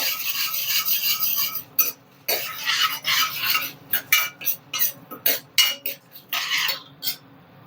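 Almond and cashew pieces frying in a pan, with bursts of dry scraping and rattling as a spoon stirs them, broken by short pauses, close and fairly loud, with no talking.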